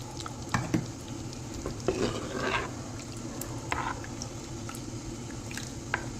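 Wet stirring and squishing of a thick anchovy fish curry in a mud pot, with soft scrapes and a low simmering sizzle underneath, close and steady.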